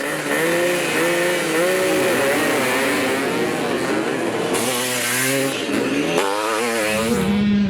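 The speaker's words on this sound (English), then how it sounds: "Race after race, bikes and riders of all sizes raced around this small floodlit track" Vintage motorcycles, including old bikes like a 1954 Triumph Tiger, race around a small floodlit track on a summer night, engines revving loudly with rising and falling pitch as several machines pass close by.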